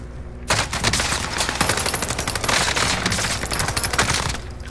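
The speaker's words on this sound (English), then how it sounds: "They're shooting me!" Video-game gunfire in a multiplayer shooter: rapid automatic bursts crack out loud and close almost continuously, with brief gaps and tinkling shell-like clinks between, and no talking.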